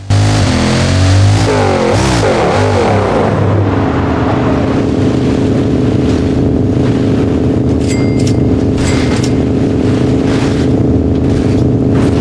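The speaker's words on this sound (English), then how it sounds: "Bugatti Veyron." A Bugatti Veyron engine in the BeamNG Drive driving game sings loud and steady, its pitch climbing and wavering over the first few seconds before it settles into a sustained high drone, with short sharp clicks near the end.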